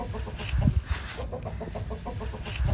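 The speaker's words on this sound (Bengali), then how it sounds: "মুরগিগুলো বেরিয়ে গেল" Hens at a village home in Bardhaman cluck and squawk close by in a busy, irregular chorus of short calls, with no talking.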